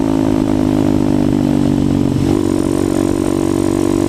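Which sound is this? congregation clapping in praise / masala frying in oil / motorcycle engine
motorcycle engine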